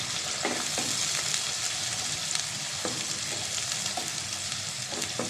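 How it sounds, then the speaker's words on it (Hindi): One large chopped onion fries in hot oil for beef keema pulao, a steady close sizzle with a few soft knocks of stirring scattered through it. "ऑयल हमारा गर्म हो गया है। अब इसमें मैं ऐड कर दूंगी प्याज।"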